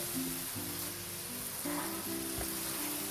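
Peas tipped into mongre frying in a pan for aloo matar moongre, giving a steady close sizzle with faint scraping and stirring underneath.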